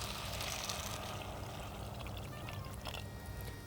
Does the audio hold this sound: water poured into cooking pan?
yes